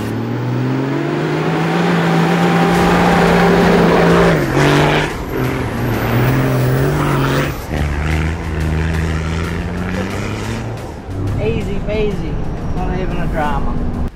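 A four-wheel-drive car towing a trailer climbs Big Red, a sand dune in the Simpson Desert. The engine is loud and close, straining and revving in rising and falling pitches, with a person talking over it.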